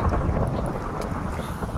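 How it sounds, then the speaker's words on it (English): Thunder rumbles in a blocky Minecraft-style video game, a steady low roaring swell that fills the moment with no talking over it. "Why is it thundering so much?"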